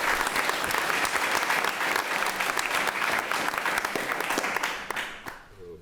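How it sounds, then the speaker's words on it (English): A school board meeting audience claps together in sustained, dense applause, close and even for several seconds before tapering off at the end. "So let's give them a round of applause."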